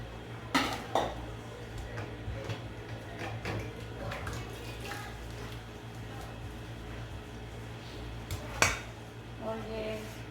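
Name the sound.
mixing ingredients in a bowl for pizza dough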